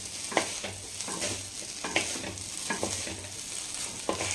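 Basmati veg fried rice being stirred in a pan, with a steady frying sizzle and a few sharp spatula scrapes and clicks against the metal, close and alone.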